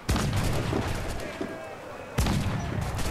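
A swivel gun fires in Assassin's Creed IV Black Flag, with two loud booming shots, one at the start and one near the end, each trailing into rumbling battle noise.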